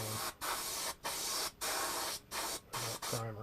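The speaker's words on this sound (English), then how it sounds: "You don't have to spray it on real thick, just a nice light coat." Spray primer hisses out of an aerosol can in a series of short, even bursts separated by brief pauses. The bursts are close and fairly loud, with no voices.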